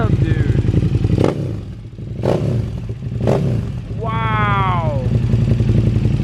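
A 2020 Streetfighter motorcycle engine revs in short sharp bursts, three quick throttle blips followed by a longer climbing rev that falls away, loud and close, with people talking and exclaiming over it.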